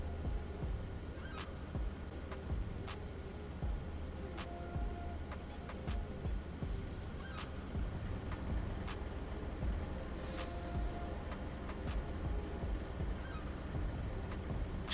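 Chickens cluck on a farm in the video game Farming Simulator 25, with scattered fowl calls over a low steady hum and occasional sharp clicks, all fairly faint.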